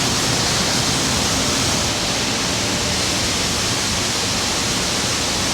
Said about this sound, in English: we're standing here in the middle of 18 roller gin stands at Cross Creek Gin